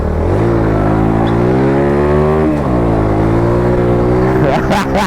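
A Suzuki Axelo 125 RR geared scooter with GSX-R livery rides through town, its engine droning loud and close with rising and falling revs as the clutch is blipped and gears change.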